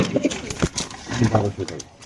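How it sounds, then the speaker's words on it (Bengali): A pair of racing pigeons cooing close by in soft, repeated low calls, mixed in with a person speaking. "এক জোড়া রেসার কবুতর সবজি রেসার কবুতর দেখতে পাচ্ছেন আপনারা"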